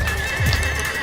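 A cartoonish horse neighs once in the Scribblenauts Unmasked video game, a loud whinny with a steady high tone running through it.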